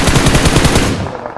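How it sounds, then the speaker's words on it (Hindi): Rapid automatic gunfire from the battle royale game BGMI, a loud, dense burst of closely spaced shots lasting about a second before tapering off. "पीछे फायरिंग हो रही है"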